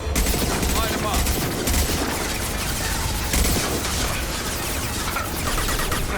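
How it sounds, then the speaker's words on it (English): Sustained, dense gunfire pours onto a heavy mech in Mass Effect 2 Remastered, a continuous loud rattle of shots with booming impacts and little let-up. "Concentrate all fire on the heavy mech."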